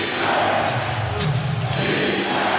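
Dense home crowd roar at a Chicago Bulls basketball game against the Seattle SuperSonics in the NBA Finals, a steady, loud wash of cheering and shouting that swells slightly without any clear break.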